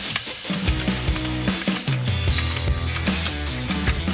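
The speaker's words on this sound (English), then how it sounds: "I'm just gonna ratchet strap this thing to the tranny jack just for safety's sake" A ratchet strap being cranked tight onto a transmission jack while a torque converter goes into a first-generation Cummins, quick repeated metallic clicks in bursts, close and loud, with no talking.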